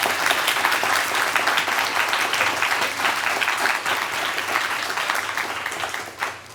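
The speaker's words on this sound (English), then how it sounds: "could we give our guests another round of applause?" Sustained applause from an audience at an evening panel event honoring the guests; steady, full clapping that carries on for several seconds before thinning out and fading near the end.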